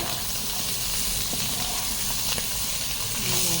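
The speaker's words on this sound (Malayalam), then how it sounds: "ഇച്ചിരി ചെറിയ ഉള്ളി വട്ടത്തിലായിരുന്നു അതും കൂടി ഇട്ടു ഇളക്കി കൊടുക്കാം നമുക്ക്" Small sliced onions fry in hot oil in a pan for a fish dish, giving a steady broadband sizzle with faint stirring scrapes throughout, close and continuous with no talk.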